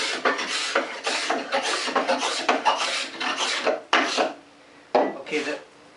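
A number 80 card scraper is pulled over a wooden board in rapid, rhythmic rasping strokes, close and fairly loud, with a few brief pauses near the end.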